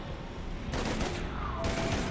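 Bursts of gunfire in the video game Mass Effect 3, two loud sustained volleys of shots separated by a brief lull, close and dense.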